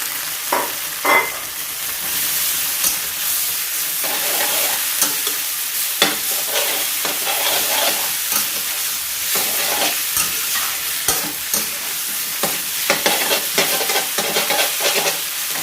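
Glass noodles with shrimp and carrot are stir-fried in a pan: a constant crackling sizzle with repeated scraping and clattering strokes of the spatula, loud and close, with no voices.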